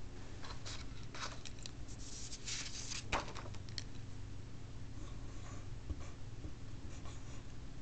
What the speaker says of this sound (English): First we need to write the sine of angle A.